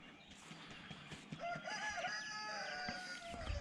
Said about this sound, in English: Yeah, I still have them roosters,